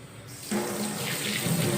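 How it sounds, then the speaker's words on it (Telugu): A water tap starts running and hands are washed beneath it, a close steady splash that begins abruptly and continues. "సో నేను దీన్ని వాష్ చేస్తాను."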